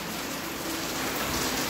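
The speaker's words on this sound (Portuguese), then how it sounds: "Neste momento começa a chover em Vitória da Conquista." Steady rain falls in Vitória da Conquista, Bahia, a dense, even hiss of drops on surfaces, close and constant with no voices over it.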